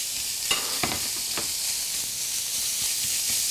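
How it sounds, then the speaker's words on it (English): A mix of ground beef and chicken hitting a hot pan and sizzling steadily close by, with a few sharper crackles and scrapes early on and no talking. "I am adding the ground meat. This is a mix of beef and chicken."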